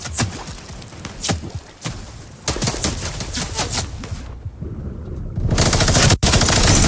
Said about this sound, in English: He died by a minigun.